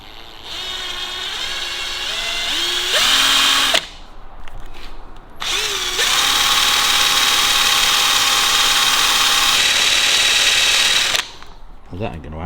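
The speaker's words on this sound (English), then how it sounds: "gonna have to drill that one" A power drill whines steadily, spinning up and bogging as it bores into a part on a 1954 Ford Mercury Monterey Sun Valley, with short pauses between long close, loud runs.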